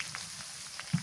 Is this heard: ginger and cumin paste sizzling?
yes